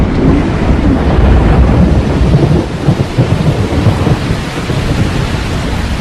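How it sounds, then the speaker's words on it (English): A loud thunderstorm during October's short rains in Katavi, Tanzania. Heavy rain hisses over deep, rolling thunder rumbles in a dense, continuous wash with wind buffeting, and no voices. "In Katavi, October brings the short rains."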